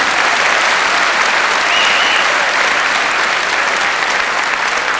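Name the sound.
concert audience applause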